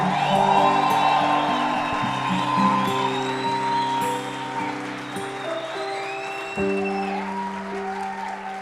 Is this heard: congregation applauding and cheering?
yes